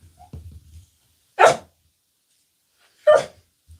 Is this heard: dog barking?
yes